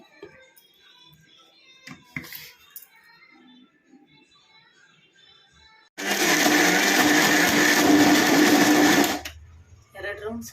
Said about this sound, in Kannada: ನೋಡಿ ಈಗ ಮಿಕ್ಸಿಗೆ ಹಾಕ್ಕೊಳ್ಳೋಣ ಎರಡೇ ರೌಂಡ್ ಸಾಕು